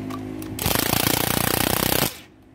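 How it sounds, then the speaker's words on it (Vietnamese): A Japanese cordless drill runs in hammer mode, giving a loud, close burst of rapid, evenly pulsed hammering that lasts about a second and a half before it stops. "test lực búa cho nó luôn"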